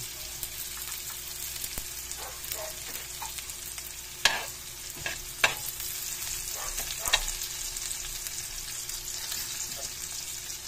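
Onion and garlic sauté in oil in a pan, a soft continuous sizzle with a few sharp scrapes and knocks of a utensil stirring, close and without voices.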